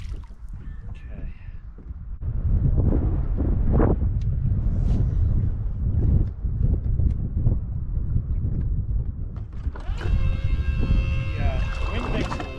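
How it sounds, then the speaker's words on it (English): Steady wind blusters across the microphone on an open lake during pre-spawn bass fishing with a jerkbait, a broad continuous rush that persists throughout with scattered knocks and handling noises. "the wind makes it a little bit tricky. It's blowing a little bit here"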